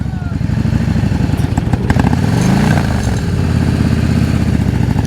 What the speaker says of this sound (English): Listen to your engine. You can hear it.